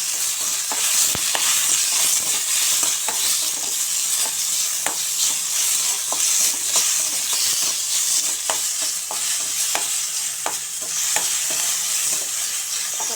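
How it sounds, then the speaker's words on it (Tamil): Tomatoes sizzle and fry in a hot pan with onion and dried red chillies for an aloe vera flower chutney, with a steady loud hiss broken by repeated sharp stirring scrapes and no talking. "இது வணங்கின பிறகு தக்காளி போட்டு வணக்கணும்"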